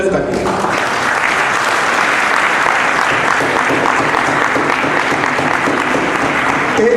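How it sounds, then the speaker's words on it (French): Loud, dense applause from a crowd at a political rally in the DRC, sustained and steady throughout, with voices and cheering mixed in. "Applaudissez pour Joseph Kabila."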